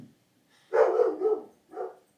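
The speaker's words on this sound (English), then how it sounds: "my dog is gonna bark till the UPS guy goes away" A pet dog at home barks at a UPS delivery man at the door, giving two or three fairly close, muffled barks with short pauses between them and no talking.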